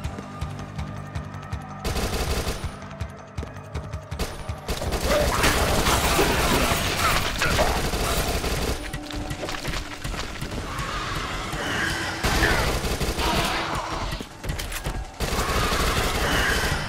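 Submachine gun fire in the zombie shooter Dead Nation, dense rapid bursts mixed with loud game effects and chaotic action noise, continuous and close with no talking.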